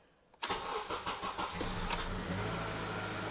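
A 2009 Honda Accord with 242,038 miles starts up after being dead: a sharp crank-and-catch, then a steady close mid-pitched idle with a few revs settling out, no talking.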